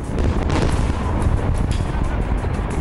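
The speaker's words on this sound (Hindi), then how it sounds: "धमाके से उड़ाए जाने से पहले इस साइट में 6 सुरंगें थी जिन्हें बारी बारी से उड़ाया गया" Explosions blast the tunnels of North Korea's Punggye-ri nuclear test site, heard as a loud, sustained deep rumble and roar with debris noise, filling the whole stretch.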